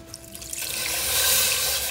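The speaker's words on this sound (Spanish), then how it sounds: "Ahora le vamos a poner agua." Water is poured into a pot to make a Christmas hot chocolate from artisanal cacao tablets. A faint trickle builds into a fuller, rushing pour that stays steady to the end, with no voices.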